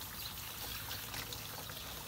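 Water pouring and trickling steadily during a dog's bath, a faint continuous wash with light splashing texture and no voices.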